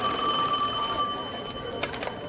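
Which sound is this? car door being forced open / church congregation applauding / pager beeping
pager beeping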